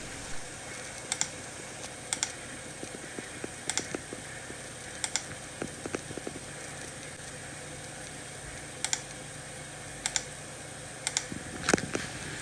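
Password keystrokes on a computer keyboard during an NVR security recorder repair, sparse quiet key clicks coming singly and in short clusters over low background hiss.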